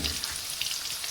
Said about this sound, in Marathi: तर इथे तेल गरम झालेलं आहे, कांदा टाकून घेऊ.